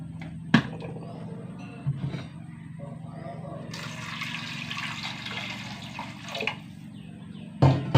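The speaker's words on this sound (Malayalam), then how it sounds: "വെള്ളം ഒഴിച്ചു കൊടുത്തു" Water pours and splashes into a pressure cooker pot of dal in a broad gushing burst midway, with clinks and knocks before and after.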